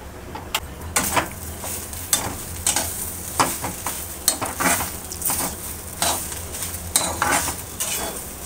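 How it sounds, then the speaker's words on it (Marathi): Coconut roasting in a pan with freshly added ginger, garlic and coriander, heard as a soft steady sizzle under repeated scraping and stirring strokes. Light clinks of a spoon or spatula against the pan come through, with no talk. "आता त्यात आलं, लसूण आणि कोथिंबीर घालूया."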